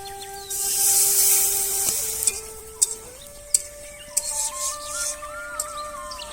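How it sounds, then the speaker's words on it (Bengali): Water hits hot frying spice masala for aloo dum with a loud hissing sizzle that gradually subsides, followed by scattered stirring knocks and scrapes, with birdsong audible in the background. "মশলা দিয়ে কষিয়ে নেওয়ার পর এখন জল দিয়ে দিচ্ছি"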